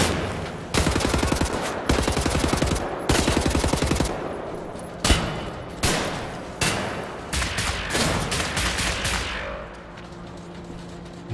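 Bursts of automatic gunfire from the first-person shooter Wolfenstein: The New Order, loud and close, with rapid stuttering volleys separated by short gaps and single heavy shots, trailing off into quieter game ambience at the end.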